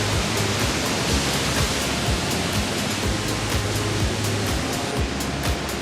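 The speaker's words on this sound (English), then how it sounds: "We're doing the waterfall." Kulaniapia Falls on Hawaii's Big Island pours in a loud, constant broadband roar of falling water that stays dense and unbroken throughout, with no talking.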